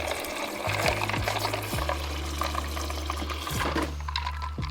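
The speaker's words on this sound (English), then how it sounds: "first I add ice. Not that much right there. And we're just gonna do some water." Water poured over ice for a protein shake, a bright splashing trickle with a few clinks, running steadily under a constant low appliance hum.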